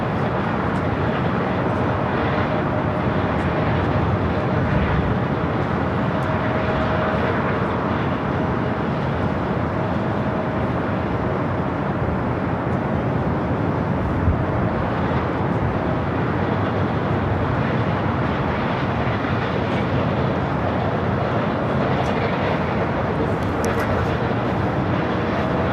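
A Korean Air cargo Boeing 747-8 at LAX gives off a steady, loud, broadband jet roar that holds for the whole stretch, with no clear break or change in level.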